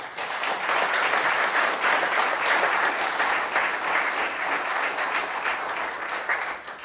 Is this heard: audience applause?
yes